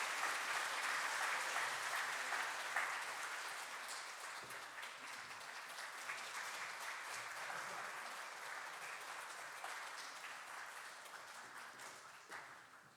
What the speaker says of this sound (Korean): 우리 박수로 한번 축하해 주시죠.